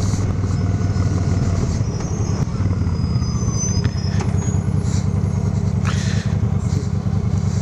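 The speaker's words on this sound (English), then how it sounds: "this garbage truck is also heading directly towards my destination" A garbage truck driving ahead on the road, heard from a following motorcycle: steady low engine drone and road rumble throughout, with wind noise and brief higher whines and hisses.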